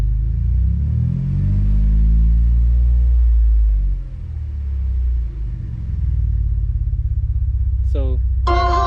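A Ford Edge fitted with a SKAR Audio ZVX 18 subwoofer rumbles as the driver gets on the throttle, a loud, steady, low engine drone that swells and eases, with a brief higher mechanical whine near the end.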